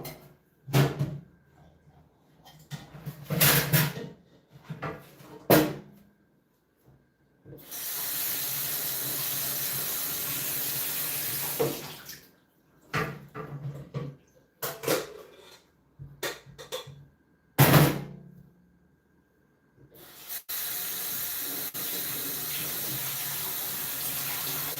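Cooked noodles, not whole grain, are rinsed under a running kitchen tap, with the water gushing steadily in several long bursts broken by short gaps, clattering, and brief handling noises between them.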